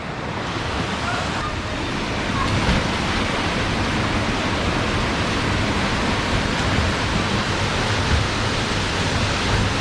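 Water rushes among huge boulders at a rocky stream near Gudalur, a dense, steady roar of flowing water filling the whole stretch with no pauses.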